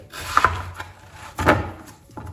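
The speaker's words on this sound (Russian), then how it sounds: "Свеклу я очистила и теперь порежу ее на небольшие куски или, скажем так, слои." A knife cuts a peeled beetroot into slices on a wooden board: three crisp, woody chops spaced about a second apart, close and fairly quiet, with no talking.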